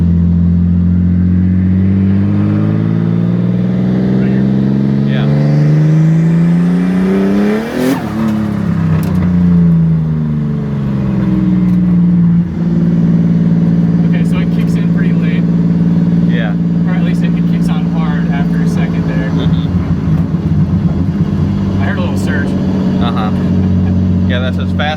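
Turbocharged BMW E36 engine revving hard through a gear pull, loud and close, rising in pitch, dropping briefly at a shift near eight seconds, then climbing again with the turbo spooling; faint tire or road noise underneath.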